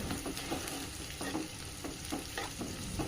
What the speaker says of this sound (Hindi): अब इसमें हमारी चॉप की हुई प्याज डालकर इसे थोड़ा सॉफ्ट होने देंगे।